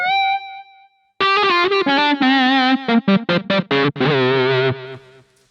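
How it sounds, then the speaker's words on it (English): A Roland MC-101 synth patch built on a PCM saw wave through a guitar-style distortion effect plays a solo melody line, loud and close, with short staccato notes and sustained bends after a brief opening tone. "This sound uses a PCM saw wave, and then the effects is set to this guitar."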